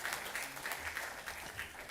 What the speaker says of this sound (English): it's worthy of another round of applause